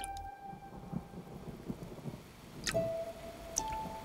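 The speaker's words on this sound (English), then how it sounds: "Oh no, here comes the rain." Rain and thunder in a Postman Pat cartoon: steady rain hiss with a low rumbling thunder roll building through the scene, joined by a few brief whistle-like tones.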